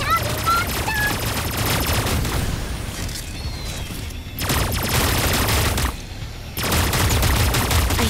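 Dense video game gunfire in rapid bursts, loud and close, with booming low thuds and two brief dropouts between volleys, plus faint voices in the mix.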